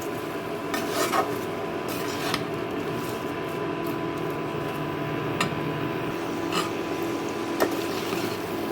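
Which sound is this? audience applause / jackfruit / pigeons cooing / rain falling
jackfruit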